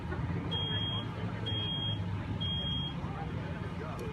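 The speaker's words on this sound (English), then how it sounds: "One of the things you'll notice is that the smoke alarm is still working." A smoke alarm in a house fire aftermath gives three evenly spaced high-pitched beeps over a steady low rumble of background noise.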